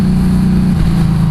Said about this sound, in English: I do have an aftermarket exhaust on this thing already. It's not a quiet exhaust.